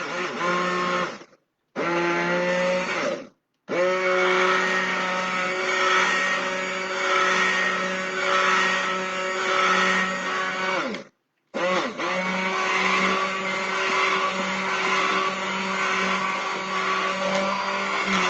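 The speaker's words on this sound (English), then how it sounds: "I'll try breaking it up with my stick blender" A stick blender whirs loudly in bursts while mixing liquid soap paste, with short pauses between runs and a steady, droning motor pitch.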